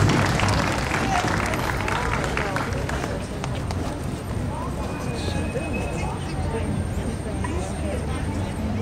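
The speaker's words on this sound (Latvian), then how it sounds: "lūdzu ar aplausiem sveicam kapelu Ežu un tās vadītāju Sandru Pudeviču" Audience at an outdoor folk-band marathon on the Esplanade green stage applauding to welcome the folk band Eži, a dense, loud, continuous wash of clapping with crowd murmur and an announcer's voice over it.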